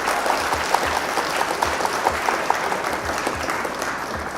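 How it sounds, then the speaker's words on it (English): Audience applause at the close of a Flesh and Blood trading card game match, a steady wash of clapping from many hands that holds at an even level throughout, with no talking over it. "Round of applause to our opponent."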